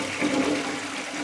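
A toilet flushes in a short, loud burst of rushing, gurgling water heard up close with no talking.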